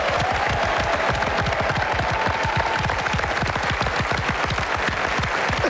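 A game show studio audience applauds two teams, dense continuous clapping from many hands filling the room at a steady loud level throughout.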